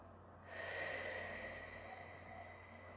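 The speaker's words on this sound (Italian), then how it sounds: "respiriamo in maniera profonda e ritorniamo al nostro stato di riposo" A slow, deep breath drawn in and let out during a gentle exercise lesson, a soft airy rush that swells and then holds steady, heard alone and close.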